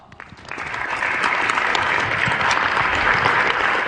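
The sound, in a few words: audience round of applause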